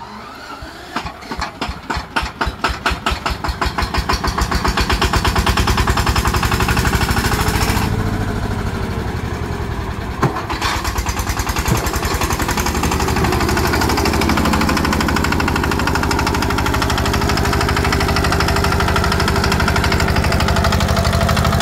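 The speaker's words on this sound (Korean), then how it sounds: "배터리가 없어도 시동 걸 수 있어." A power tiller's single-cylinder engine is started without a battery, firing in quickening knocks over the first few seconds and then settling into a loud, steady, rattling chug that runs throughout.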